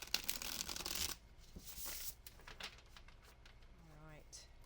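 Tarot cards riffled and shuffled by hand, a dense papery flutter at close range for about a second, then quieter handling under a speaking voice.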